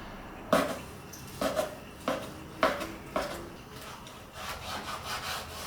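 A knife cutting through pork belly on a board, about five distinct rasping strokes spaced unevenly, close and fairly loud, with no talking.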